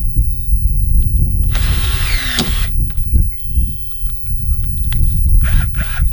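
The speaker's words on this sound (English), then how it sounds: "pre-drill all your holes where you're going to put the self-tapping screws" A brief, high whirring burst of a power drill pre-drilling pilot holes in wood for self-tapping screws near the middle, with quieter handling noises and small clicks around it.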